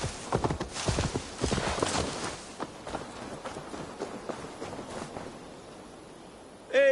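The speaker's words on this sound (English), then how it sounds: "Stop that horse!" Horse hooves clip-clop in a rapid galloping rhythm in a video game, loud and close at first and then receding, with a brief whinny-like tone at the very end.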